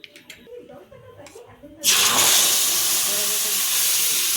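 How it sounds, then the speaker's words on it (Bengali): Tomato, garlic and dried red chilli paste drops into hot white oil: a few quiet clinks and rustles, then a sudden loud hissing sizzle that stays steady and close to the end. "টমেটোর পেস্টটা আমি তেলের মধ্যে দিয়ে দিয়েছি"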